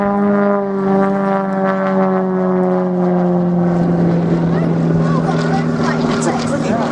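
Scale model aerobatic airplane passing on knife edge at the Little Gransden airshow, its propeller engine droning loud and steady with a pitch that slowly drops as it goes by, while a commentator talks over it.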